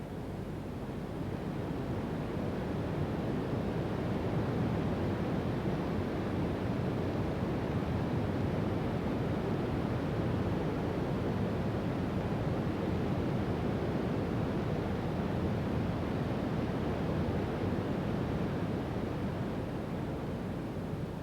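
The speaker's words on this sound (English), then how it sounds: "Its narrow width and rock formations throw the water into a frenzy before cascading over the brink." Water of the American Falls at Niagara cascading over its rocks, forming a steady, loud broadband roar that holds constant throughout with no voices.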